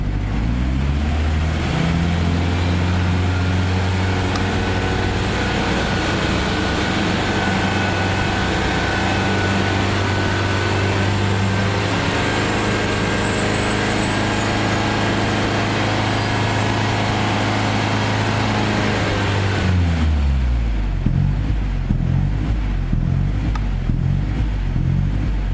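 A BMW 318i engine revs steadily under throttle, its loud, close drone holding for about twenty seconds, then dropping away as the throttle is released.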